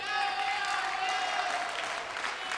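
A badminton crowd at the men's singles final of the 2013 Carlton Irish Open applauds in support of the Malaysian player, a steady wash of clapping that runs the whole time beneath a commentator's voice.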